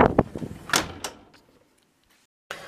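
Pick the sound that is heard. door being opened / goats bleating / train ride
door being opened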